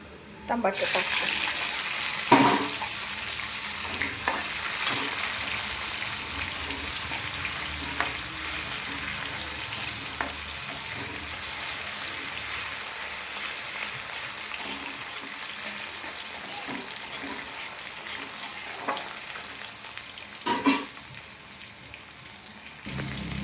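Onion and tomato fry in a pan for zunka, a steady sizzle running throughout with occasional clanks and scrapes of stirring, and a person talking intermittently over the cooking.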